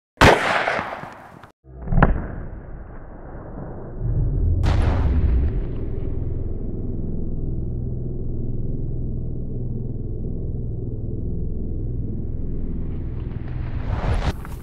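A single loud .300 HAM'R rifle shot from a 16-inch barrel, firing a Lehigh Defense 110-grain bullet through a vehicle windshield, opens with a sharp crack followed by a fading echo and a long, steady rumble.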